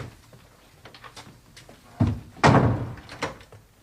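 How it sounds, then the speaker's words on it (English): A door is shut indoors: a few soft fumbling knocks, then a solid thump followed by a heavier slam and a last lighter knock, fairly close with quiet room tone between. "You get back in here now, go on, and shut the door."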